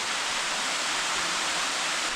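The Sticky Waterfalls near Chiang Mai pour in a loud, continuous, broadband rush of falling water that stays steady throughout, with no voices.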